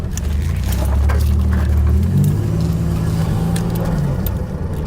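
A 1987 Buick Grand National with hidden issues drives on the road, its engine rumbling low and steady up close, rising in pitch partway through as it pulls along, with faint rattles over the drone.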